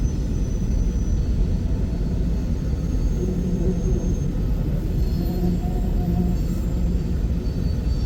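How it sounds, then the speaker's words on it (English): Manifest freight train with original BN railroad cars rolling past at Pacific Junction, Iowa, a loud, steady rumble with faint squeals and wheel tones throughout. "Here comes some more original BN cars."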